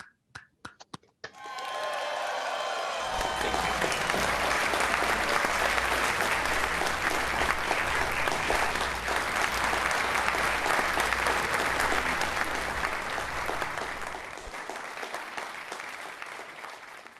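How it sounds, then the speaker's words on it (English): A realtors' association audience at an installation ceremony applauds the newly elected 2021 leadership team, a full, sustained roar of clapping with a low music bed beneath that fades out toward the end. "Everyone, please join me in applauding the 2021 leadership team."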